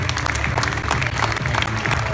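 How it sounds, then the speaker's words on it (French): Steady applause from a crowd at a boxing gala in Monaco, dense and even clapping filling the hall throughout, loud and sustained, with faint voices underneath. "Je vous demande de les applaudir, mesdames et messieurs."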